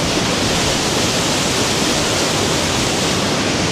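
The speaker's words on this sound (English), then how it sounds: "The falls are really loud. We're right beside them." Twin Falls in Yoho roars close by, a dense, steady rush of water that fills everything with constant loud noise.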